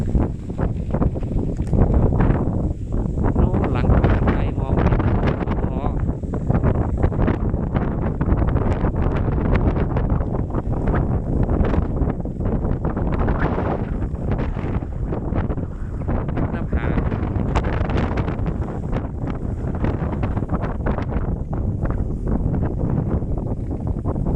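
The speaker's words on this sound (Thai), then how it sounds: "ลมค่อนข้างแรง" Strong wind roars across a foggy 360-degree mountain viewpoint at Phu Thap Boek, a loud, steady rush of buffeting microphone noise that fills the whole stretch without a break.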